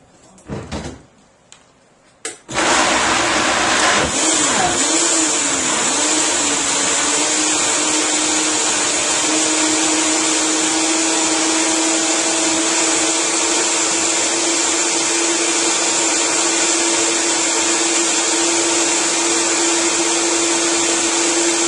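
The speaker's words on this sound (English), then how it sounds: "we're going to blend it for about 20 or 30 seconds and it gets loud" A loud, steady roar of a blender blending almonds and water, running continuously after a few brief clicks and clunks, whirring with a constant high-pitched whine and grinding texture.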